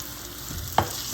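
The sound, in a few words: marinated chicken added to pan and frying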